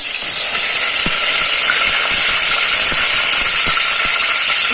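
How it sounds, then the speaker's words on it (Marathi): Cumin seeds hit hot oil in a pan for a Marathi aamti tempering, giving a loud, steady, close sizzling hiss with faint scattered pops and no talk. "तेल चांगलं गरम झालेलं आहे आता मी जिरे मोरी टाकत आहे"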